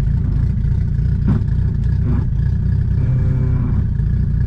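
A D16Y8 engine in a Honda EK coupe runs under engine braking with a low, steady drone and light mechanical clatter, heard close up from inside the car.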